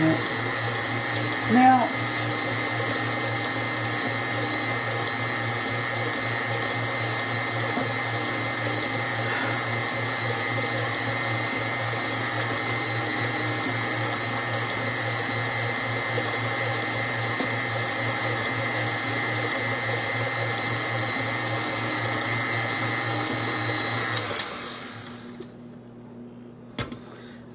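Electric mixer whirring steadily on peanut cake batter, a constant motor drone with humming tones that runs for most of the stretch before shutting off abruptly near the end; a brief spoken word at the start.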